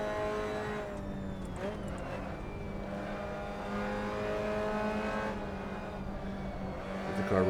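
A Mazda MX-5 Cup race car at Lime Rock Park drones at steady high revs under load, a continuous close engine note that swells slightly toward the end, with no talking.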